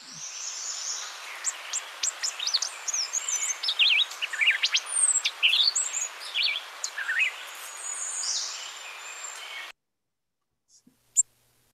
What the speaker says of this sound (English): So oven birds do this flight song, this little courtship song at night.